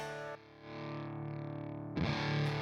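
A heavily distorted electric guitar chord through a Ramble FX Twin Bender fuzz pedal with its bias set too low rings out, drops briefly quieter, then swells back and is struck again hard near the end, fuzzy and buzzing.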